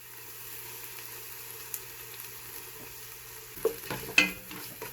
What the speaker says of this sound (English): Let it fry a bit before I add my spinach.